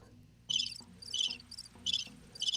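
Crickets chirping in short, bright trilled bursts, about five pulses repeating at a steady rhythm, close and clear against a quiet background.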